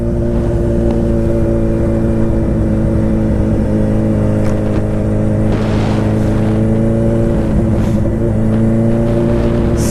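A modified, stretched Suzuki Hayabusa engine runs loud and close with a steady, deep multi-toned drone at around 3,500 to 4,000 rpm, holding nearly constant throughout with slight surges as the throttle is cracked open.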